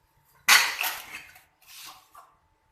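Spice mix goes into a large metal cooking pot in a home kitchen, with a sudden, close clatter of metal followed by softer scraping and rattling that fades out in two bursts.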